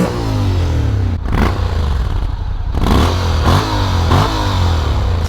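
A 2025 Honda X-ADV 750 motorcycle engine rumbles close by with a deep, steady stock exhaust note, swelling in repeated throttle blips and revs while riding over fossilised lava fields.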